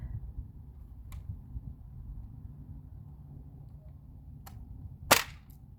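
A Demolition dart blaster with a revolver drum fires once at a target, a single sharp, loud crack near the end over a low steady room rumble, preceded by a couple of faint clicks.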